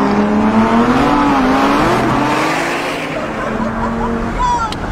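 Lamborghini V10 and Bugatti 16-cylinder cars racing, a steady loud engine drone with pitch rising and sweeping as they accelerate, continuing throughout with a voice speaking over it.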